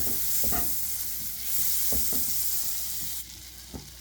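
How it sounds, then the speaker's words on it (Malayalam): Butter melting in a pan for a paneer cheese sandwich, a steady soft sizzle with a few light scrapes and taps of a utensil, close and moderately loud, no voices. "ഞാനിത് ഈ പാനിലേക്ക് ഒരു പീസ് ബട്ടർ ഇട്ട് കൊടുക്കണം ബട്ടർ ഒന്ന് ഒഴുകി വരട്ടെ"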